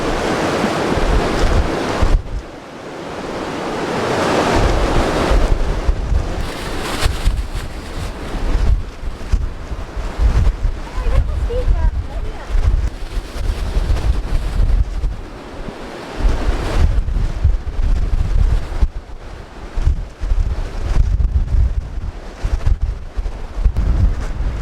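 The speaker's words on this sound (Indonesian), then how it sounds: "anginnya masih kencang, tapi nggak disertai hujan sih" Strong gusting wind on the summit of Gunung Bismo, a steady loud roar buffeting the microphone throughout, with surging gusts and no rain.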